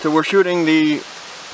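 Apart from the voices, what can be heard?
No everyday noise stands out behind the speech.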